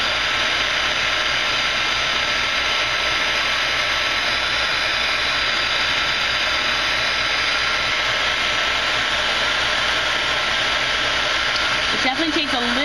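A heat tool blows steadily for several seconds close up, a constant broadband hiss as it melts thick embossing enamel for a craft embellishment, with a brief tonal shift near the end.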